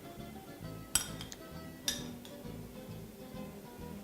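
A spoon sets orange segments around a fruit flambé dish, giving two light, faint clinks about a second apart over a quiet background.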